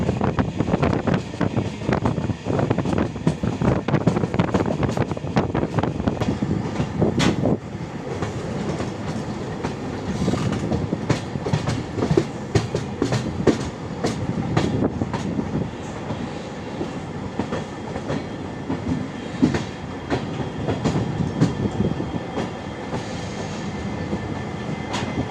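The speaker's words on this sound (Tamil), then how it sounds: "சரி, கொஞ்சம் நேரம் அந்த ட்ராக் சவுண்டை என்ஜாய் பண்ணலான்னு சொல்லிட்டு கொஞ்சம் நேரம் நின்றுட்டுருக்கேன்" Vistadome train running on the rails between Yesvanthpur and Mangalore, a continuous rumble with repeated clickety-clack wheel beats and wind noise, steady and close throughout.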